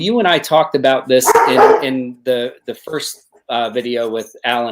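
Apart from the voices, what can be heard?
dog barking in the background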